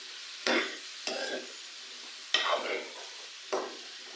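Mixed vegetables (potato, peas, cauliflower and carrot) are stirred in a frying pan, with four soft scraping strokes over a steady low sizzle, close and quiet.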